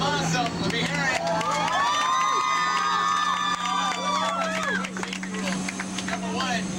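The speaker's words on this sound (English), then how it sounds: "Give me a round of applause because I'm awesome. Let me hear it." A tram tour crowd at Halloween Horror Nights cheers, whoops and claps in a loud, sustained burst of many overlapping voices nearby, fading a little toward the end.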